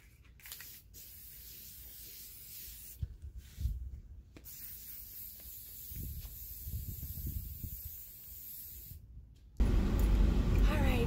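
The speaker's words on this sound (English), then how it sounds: "So I'm going to spray paint it with this copper metallic by Krylon." Krylon copper metallic spray paint hissing from an aerosol can in several close bursts separated by short pauses, with a louder rush of noise at the end.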